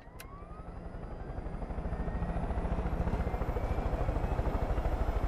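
A helicopter's rotor thumps in a steady rapid pulse in the video game Far Cry 5, growing slightly louder as a high engine whine holds underneath.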